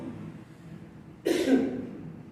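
A single short cough bursts out near the end after quiet room tone.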